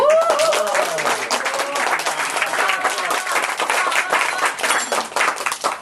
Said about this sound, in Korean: 많이 박수해 주시고 격려해 주십시오